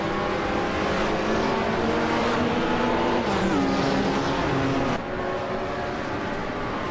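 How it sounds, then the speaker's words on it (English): Video game race cars, including a 2016 Maserati Gran Turismo MC, roar off the start at Detroit Belle Isle, a loud continuous blend of revving engines with rising and falling pitch as the pack accelerates. "the race kicks off at Detroit Belle Isle with Unknown Tactics on pole, in a 2016 Maserati Gran Turismo MC"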